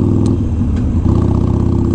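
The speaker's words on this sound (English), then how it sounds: "The sound that these exhausts make is perfect." A Harley-Davidson Sportster Iron 883's engine and exhaust give a loud, close, deep lumpy rumble with a brief rev in the middle, alone with no talk.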